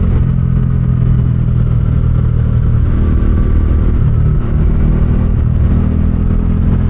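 A motorcycle being ridden gives a loud, steady engine drone with wind rumble throughout, close and unbroken, with no talking.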